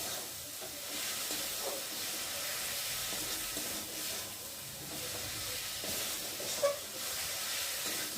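Masala spices fry in a pan with a steady, faint sizzling hiss that carries on throughout, with occasional small pops and clinks.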